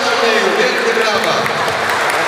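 Applause at a youth tournament awards ceremony honouring the best player, a dense continuous wash of clapping with crowd noise mixed in, loud and close.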